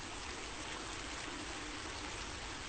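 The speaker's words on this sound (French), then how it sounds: "L'eau coule sur le marbre" Water running over marble in a mosque ablution hall, a steady, dense splashing flow like many small streams, continuous and even with no pauses.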